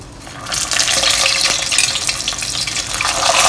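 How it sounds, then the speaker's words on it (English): Honey pork ribs deep frying in hot oil over high heat, a loud, steady crackling sizzle that swells after a quiet start and holds dense and close throughout, with no voices. "So you're going to fry this now."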